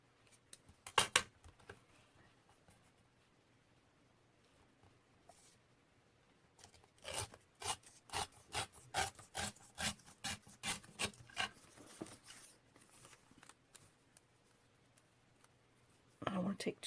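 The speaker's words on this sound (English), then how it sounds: "we're just going to tear a little more than 1/2 of an inch" Paper from a junk envelope tears in a quick run of short, rasping rips, close and crisp, after a quiet stretch with a few soft rustles and a brief rustle at the end.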